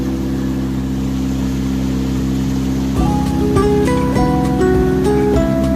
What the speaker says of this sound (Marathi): नर्मदा नदीमध्ये बोटिंग करतोय